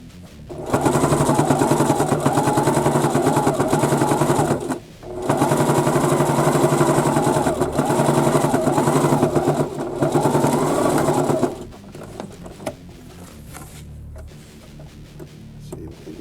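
A sewing machine runs in three sustained bursts of rapid, steady stitching along a fabric edge, close and loud, with brief pauses between runs before falling quiet.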